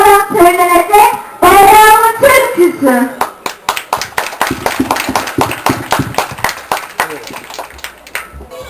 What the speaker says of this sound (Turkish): bu alkışı hiç beğenmedim ben yani, gerçekten